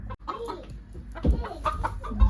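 Local chickens cluck and squawk up close in an irregular series of fairly loud calls, with rustling and faint background voices.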